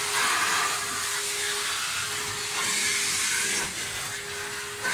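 A vacuum cleaner cleans the corners of a room, giving a loud, steady airy whoosh with a faint whine that runs continuously, with no talk.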